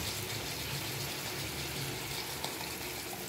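Water pours steadily into a pan of fish being cooked for escabeche, with a continuous splashing gush, close by and uninterrupted.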